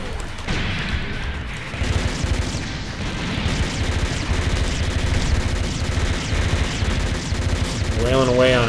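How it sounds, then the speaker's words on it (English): Rapid machine gun fire in the mech video game SD Gundam Capsule Fighter, a dense continuous stream of shots and impacts with a few heavier bursts, loud throughout. "I kind of like this machine gun weapon."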